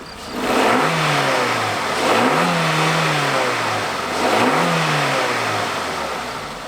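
A 1.5-litre petrol engine in an off-road car revs three times in succession, each rise in pitch followed by a fall back toward idle, heard close and steady with no talking.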